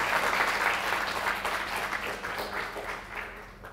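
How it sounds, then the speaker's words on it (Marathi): An audience at a National Science Day talk on the science behind miracles applauds a participant named Prathamesh, dense clapping that is strong at first and gradually fades away. "प्रथमेशसाठी जोरात टाळ्या वाजवा"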